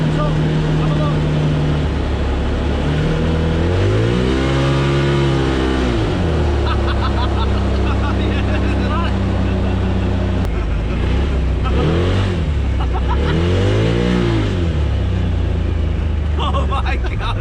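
A Polaris RZR off-road racing buggy engine drones loudly and rises in pitch through several revving bursts while accelerating, with people talking over the continuous motor.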